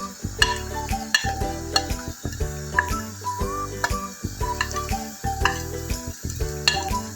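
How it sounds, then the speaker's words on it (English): Masalas, chili powder and onions fry in a pan, giving a close sizzle under repeated rhythmic clanking and scraping of a spoon against the metal, with a faint tonal ringing in the background. "Let the masalas and the onions fry"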